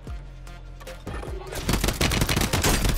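Shotgun gunfire in the Warzone video game: a few heavy blasts at first, then rapid, loud bursts of overlapping shots and battle noise that grow denser toward the end.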